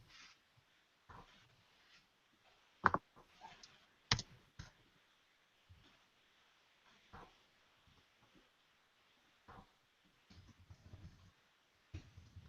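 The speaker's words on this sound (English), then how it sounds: "I'm typing as fast as I can." Keys being typed on a computer keyboard in scattered bursts of clicks, some sharp and louder, with gaps of near silence between, faint and close.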